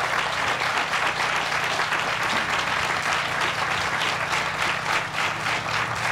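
A crowd at a groundbreaking ceremony for a Salvation Army community center in Chicago applauds loudly and steadily, a dense, continuous roar of many hands clapping with no pause for several seconds.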